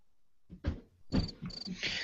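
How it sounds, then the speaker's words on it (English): A recording of crickets chirping, played as a joke, with short bursts of high, close chirps in an irregular series and nothing else. "I had to play the crickets."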